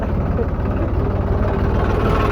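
A tractor engine rumbles steadily up close, a loud, constant low throbbing drone with no pauses.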